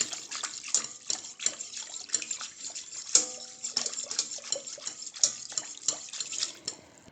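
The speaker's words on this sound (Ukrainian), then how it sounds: "отож збиваю так, руками вінчиком" Cake batter made without eggs or butter, with sugar mixed in, is whisked by hand with a wire whisk in a bowl, giving a close, steady run of quick rhythmic scraping and tapping strokes with no talk.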